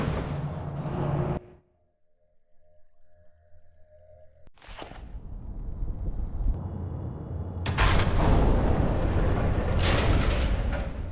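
Large mechanical doors grinding open in the PC video game Alpha Protocol, a sudden heavy thud followed by a rising rumble that swells into a loud, sustained roar.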